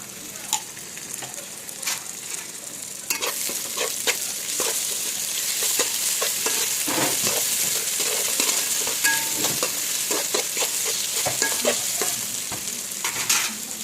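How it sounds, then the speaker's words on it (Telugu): Ginger paste sizzling with fried onions in a pan for mutton curry, a steady close frying hiss broken by scraping spoon stirs, with no talking. "ఇదండి ఇందులో అల్లం పేస్ట్ చేద్దాం. ఆనియన్స్ వేగినవి"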